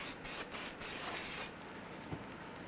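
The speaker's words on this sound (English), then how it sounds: "We're going to use some brake clean, clean the outer surface." Three short bursts of brake cleaner sprayed onto front brake parts of a 2003-2011 Honda Element, each a loud close hiss with brief gaps, the last one longer, then quiet.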